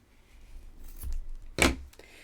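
Scissors trimming yarn on a crochet pom-pom tassel: a soft snip followed by a sharper, louder crisp cut, close by with no talking.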